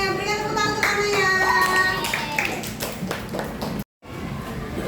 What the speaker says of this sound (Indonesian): Berikan tepuk tangan untuk Kanaya.